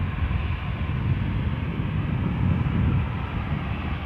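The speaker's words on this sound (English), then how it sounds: "EasyJet, you are gazing on your next departure." A steady low rumbling roar from an easyJet airliner departing Edinburgh for Paris Charles de Gaulle, holding even and moderately loud throughout with no talking.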